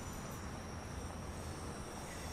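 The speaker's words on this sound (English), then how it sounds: "the Pendolino's coming in." Virtual Pendolino train rolling into London Euston in Train Sim World 5, a steady broadband rumble of wheels and traction with a faint high electrical whine, continuous and fairly close, no talking.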